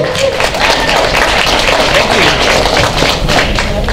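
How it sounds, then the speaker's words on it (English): Loud, sustained applause from a large audience at a media preview event, dense clapping filling the whole stretch with crowd noise. "Give him a huge round of applause."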